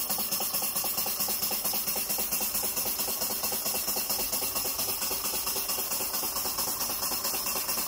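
Small PM Research model engine driving a homemade generator runs with a steady, fast, even chuffing beat, close up and fairly quiet, with no voices.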